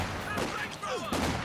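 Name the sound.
machine gun fire in video game Company of Heroes 2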